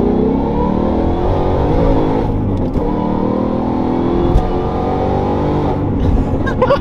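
A manual transmission car accelerates hard in one pull, its engine roaring loudly and steadily up through the revs with wheels spinning, heard close from inside the cabin.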